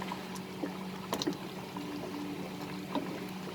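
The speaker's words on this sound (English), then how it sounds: "So the rice is boiling now." Steady bubbling and simmering of rice boiling in a pot, a continuous low churn with a few brief louder pops.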